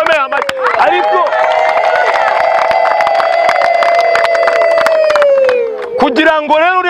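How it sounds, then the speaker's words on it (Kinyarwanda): Church congregation in Kayonza, Rwanda erupts in loud, sustained ululation and applause, a dense wall of high trilling voices and clapping that holds for several seconds before tapering off. "tuvugirize Imana impundu dukomere Imana amashyi menshi"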